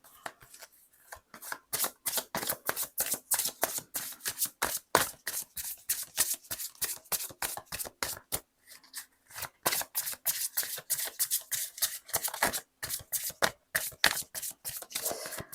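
A deck of tarot cards shuffled by hand in quick, steady riffles and slaps, dozens of crisp papery snaps in an even rhythm, close and fairly loud with brief pauses, and no talking.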